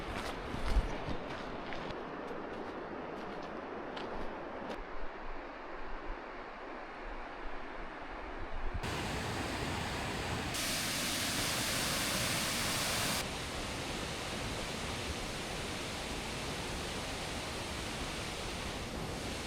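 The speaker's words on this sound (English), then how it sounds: "There's a waterfall there." A waterfall along the Gros Morne Mountain trail in Newfoundland gives a continuous broadband rush of falling water, steady and moderately loud, with the hiss swelling partway through.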